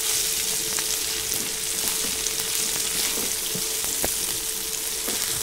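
Ivy gourd (tindora) fries in plenty of oil in a pan: a continuous close sizzle with scattered sharp pops and a few stirring clicks, and no one talking.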